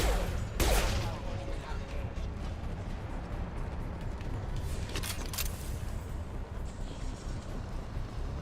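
Gunfire in Mass Effect Legendary Edition, a burst of shots near the start followed by scattered bangs and crackle over a dense, steady game mix of effects and background noise.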